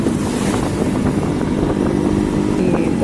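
Motorcycle engine drones steadily while riding, loud and close with broadband wind and road rush throughout, no talk.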